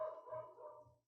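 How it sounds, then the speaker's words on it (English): A neighbor's dog barking somewhere off nearby, two or three muffled, faint barks in quick succession heard alone and quietly. "I can hear my neighbor's dog going crazy"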